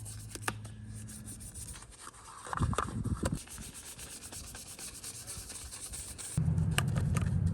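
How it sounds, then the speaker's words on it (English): Small detailing brush scrubbing grime out of the lug nut holes on a Camaro wheel, a steady close rubbing and scraping with a few louder bursts of brisk strokes. "you use a little detailing brush and scrub it"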